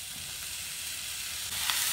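Chhena and sugar cooking together in a pan while being mixed, giving a steady, moderate sizzling hiss that swells slightly toward the end.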